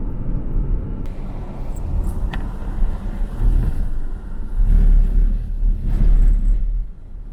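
A car drives a back road through a Vermont state forest in the mountains, a steady low engine and road rumble from inside the cabin with light wind buffeting and occasional small knocks, no talk.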